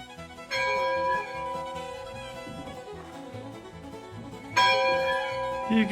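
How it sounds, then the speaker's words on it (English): A museum bell is rung by hand, ringing out twice with bright sustained metallic tones that decay slowly between strikes, with faint background sound. "Ringing the bell."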